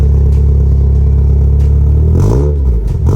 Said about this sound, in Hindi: ये इसका HKS का साउंड है।